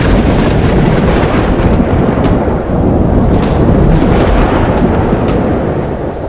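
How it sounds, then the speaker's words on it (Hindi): Heavy night rain pours steadily with gusting wind buffeting the microphone, and low thunder rumbles beneath the downpour throughout. "तभी रात को तेज बारिश और हवा चलने लगती है"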